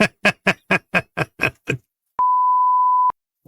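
A single flat censor beep tone lasting about a second, clean and loud, following a quick series of eight short rhythmic clicks or taps.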